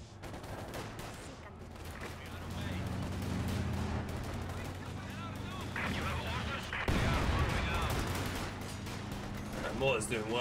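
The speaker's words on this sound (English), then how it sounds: "That mortar's doing work." Mortar and artillery fire in a Company of Heroes 2 match, a dense barrage of booming impacts and rumbling blasts layered with gunfire, continuous and loud with a heavy hit near the middle.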